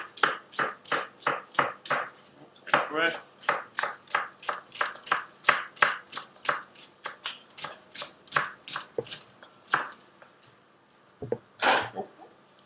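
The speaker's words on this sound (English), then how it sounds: "Quickly shred up the leek." Fast, steady rhythmic chopping of a knife through leek on a board, dozens of crisp cuts close up, with a brief pause near the end.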